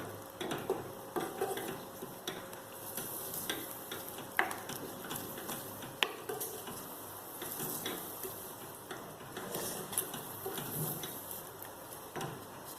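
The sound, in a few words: masala sautéing and being stirred in a pan for mutton saalna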